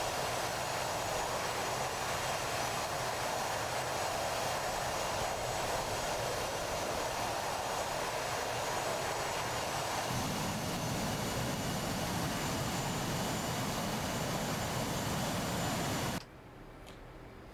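The F/A-18C Hornet's jet engines in DCS World, making a continuous loud whine and roar that stays steady, deepens into a heavier rumble partway through, then drops off sharply near the end.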